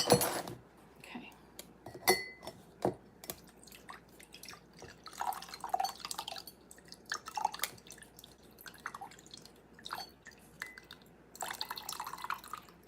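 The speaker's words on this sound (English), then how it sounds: "I'll strain it into a cup, a mug." Liquid is strained into a mug in a home kitchen while apple turnovers are made, with irregular drips and trickles and light clinks of glass and utensils, close and fairly quiet, without talk.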